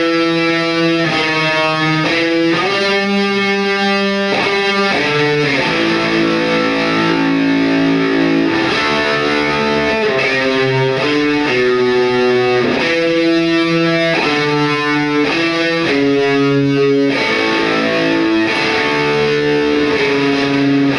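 Heavily distorted electric guitar plays a lick as a repeating melodic phrase of sustained, overdriven notes, loud and steady for about twenty seconds with no talking.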